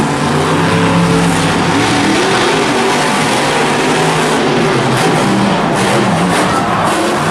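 Monster trucks race at a Monster Jam event in Anaheim, their engines roaring loudly and continuously in a packed stadium with a constant crowd din around them.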